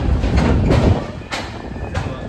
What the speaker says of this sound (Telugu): ఆ ట్రైన్ కూడా వెళ్ళిపోయింది, తిరుపతి ట్రైన్ కూడా.